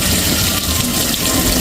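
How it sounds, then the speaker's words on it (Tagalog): Tap water runs in a steady, loud, close gush while hot water in a magic cup is poured out and replaced with cold, with no talking. "Itapon na yung hot water. Palit na ng malamig."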